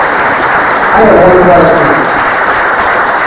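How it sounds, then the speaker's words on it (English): Applause from an audience at a township community meeting, a loud, even wash of clapping under a voice briefly speaking. "Can we give a round of applause to the water department?"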